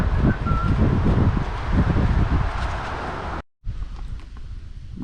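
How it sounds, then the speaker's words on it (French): Strong headwind buffeting the microphone outdoors, a loud continuous roar that cuts out briefly and then returns more softly. "là on a le vent de face, c'est difficile"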